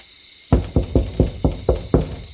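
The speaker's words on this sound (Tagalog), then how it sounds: "may marinig akong kumakatok mula sa labas" Seven evenly spaced knocks on a door at night, heard close and fairly loud, each a sharp thud with a short decay, spread over about two seconds.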